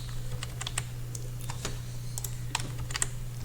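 Keyboard keys and mouse buttons click quickly in an irregular run of separate, close taps while shapes in MS Word are selected and copied with Shift, Ctrl+C and Ctrl+V. A steady low hum sits underneath, and nobody speaks.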